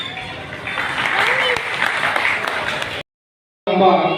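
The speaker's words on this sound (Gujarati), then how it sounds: "જોરદાર તાળીઓ તમે વધાવજો" A crowd at a community gathering claps in sustained, fairly loud applause for about three seconds, then it cuts off to silence before a voice begins speaking.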